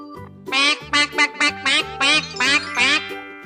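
A duck quacks in a quick run of about eight loud, close, nasal calls, evenly spaced over a low hum.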